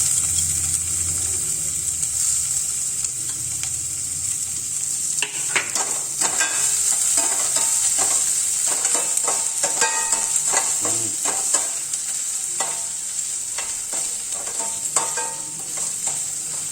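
Green chilies and chopped onion stir-fry in about two spoons of oil, a steady sizzle under repeated scraping and clinks of a spoon against the pan, with no talking.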